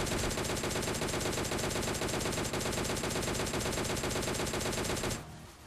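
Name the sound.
M4 rifle gunfire in PUBG Mobile Lite video game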